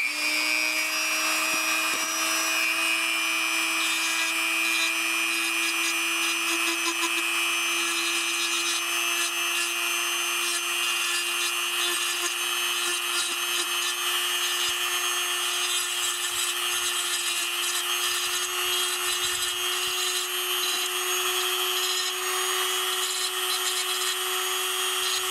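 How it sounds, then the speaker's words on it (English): A Dremel rotary tool fitted with a barrel sanding bit whines steadily at high speed while grinding and smoothing a flat part of an action figure, a close, continuous tone with light scraping texture throughout. "I'm gonna change my bit real quick to the barrel bit, just because it's actually going to be sanding something that's flat"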